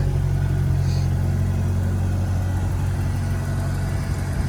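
A Ford Foxbody Mustang idles steadily up close, a low, even engine rumble holding without a break and with no voices over it.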